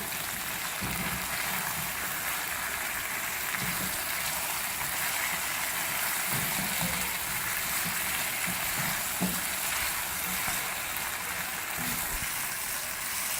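Spiced pickled potatoes with crushed red chilli and salt fry on high heat in a pan, a loud, steady hiss of sizzling oil with soft, occasional stirring knocks beneath it.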